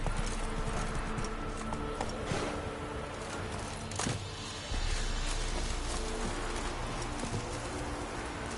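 Horse hooves clip-clop steadily at a trot in a video game on PS4, a close, even rhythm of hoof falls over a soft outdoor ambience.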